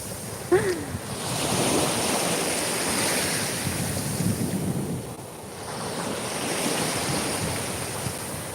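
Cold sea waves wash onto a shell-strewn shore in a continuous, rolling surf roar, mixed with gusty wind buffeting the microphone.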